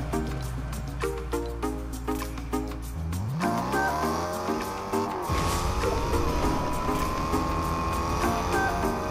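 A car in the video game Fortnite, with the engine revving and rising in pitch as it pulls away, over a steady musical backdrop, with some tire squeal and rumble later on.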